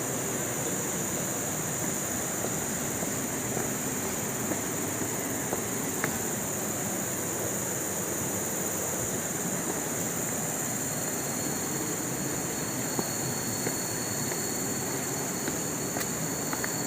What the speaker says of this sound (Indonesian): Kita berada di air terjun Silima 5.